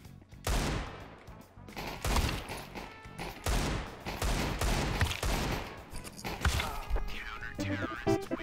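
Rapid Desert Eagle shots ring out in a shooter video game, a string of sharp punchy bangs in quick succession with brief gaps, loud and close.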